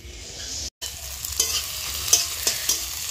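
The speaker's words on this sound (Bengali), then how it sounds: "কড়াই একদম এত গরম হয়ে গেছে, পেঁয়াজগুলো হালকা একটু পুড়েই গেল" Onions frying in a very hot wok sizzle loudly while being stirred, with scraping spatula strokes and a brief drop-out near the start.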